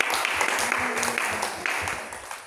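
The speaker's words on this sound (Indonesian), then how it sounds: "Beri tepuk tangan untuk Tuhan." Congregational applause for God during an Indonesian church sermon, a dense steady clapping from a crowd in a hall, with a sustained tone from a keyboard or voice underneath.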